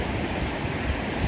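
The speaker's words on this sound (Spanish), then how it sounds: "Mire cómo viene el agua bajando." The Guelatao river in Oaxaca rushes downstream in a steady, close, full-bodied roar of flowing water with no voices over it.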